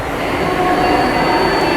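A Chennai airport metro train runs with a loud, steady rumble and a thin high whine from wheels and motors, continuous and close for the whole stretch.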